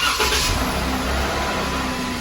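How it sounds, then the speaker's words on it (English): A 2016 Jeep Wrangler JK engine idling while warming up, a steady low mechanical rumble close by and fairly loud, with a brief brighter burst at the start and no talking. "we're going to want to warm up the engine a little bit for 3 to 4 minutes"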